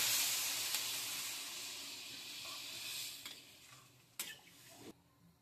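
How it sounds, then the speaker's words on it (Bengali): Water is poured into frying masala in a pan, setting off a loud hissing sizzle that slowly fades, broken by a few clinks of a utensil against the pan before it goes quiet. "আমি এবার জল দিয়ে দিচ্ছি"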